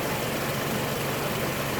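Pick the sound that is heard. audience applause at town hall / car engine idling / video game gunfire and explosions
car engine idling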